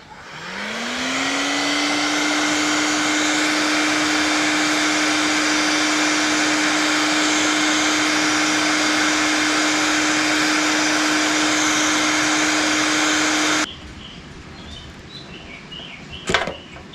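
Heat gun aimed at a stuck fuel petcock on a 1971 Mini Enduro, spinning up with a rising whine into a loud, steady blowing roar for about thirteen seconds, then switched off, leaving faint handling noises and a short knock.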